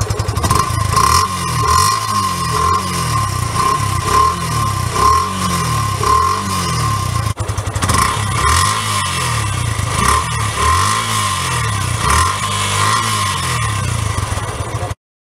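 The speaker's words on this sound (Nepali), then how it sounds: "र अब यसको सुनौँ एक्जस्ट साउन्ड" A Yamaha FZS V3 motorcycle's exhaust, heard close up as the engine is revved repeatedly in rising and falling pulses, with a steady idle between revs and a brief cut midway.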